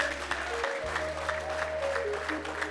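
Congregation clapping during a church service, a steady dense patter of hands at moderate level that continues throughout over a sustained low musical drone.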